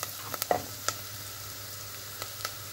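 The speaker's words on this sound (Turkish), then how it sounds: "Şöyle bir karıştıralım." Spoon scraping and stirring through a pot of chickpea stew with pepper paste and spices, a few scattered clinks and scrapes over a low steady sizzle, close by and fairly quiet.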